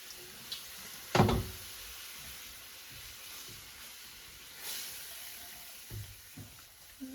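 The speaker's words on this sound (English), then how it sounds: "I'm also adding a little bit of water." Water poured into a pan of hash and gravy on the stove: a steady, soft hiss of pouring with a brief louder splash near the start and a few small knocks, no talking.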